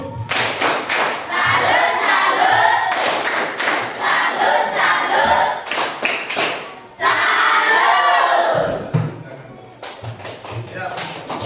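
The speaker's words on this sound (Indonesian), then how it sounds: "Tepuk salut." Indonesian classroom of students performing a rhythmic clapping salute cheer for a presenting group, loud chanting voices mixed with sharp clap bursts and thumps, with short pauses between phrases before the noise resumes.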